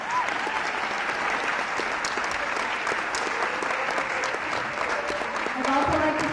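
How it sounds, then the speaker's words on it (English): A crowd at a college honor society induction ceremony claps steadily for several seconds, with dense, even applause at moderate distance. "Let's give them a round of applause."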